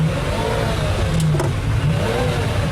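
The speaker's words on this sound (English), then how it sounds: "to listen to that V12 in the back is very special." A Ferrari Enzo's V12 engine drones steadily at close range, rising slightly in pitch as it revs, with a constant low rumble throughout.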